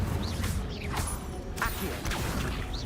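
Incendio fire spell cast in Hogwarts Legacy, a quick series of whooshing, crackling magical bursts with swishy sweeps layered over low background game noise.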